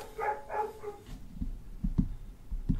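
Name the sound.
dogs barking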